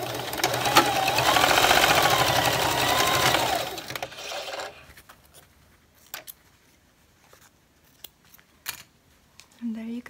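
A sewing machine whirs steadily for about four seconds while stitching a 3D fabric face mask. It then falls quiet apart from scattered clicks, handling taps and small fabric noises nearby.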